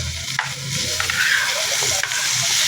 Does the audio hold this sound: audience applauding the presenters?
no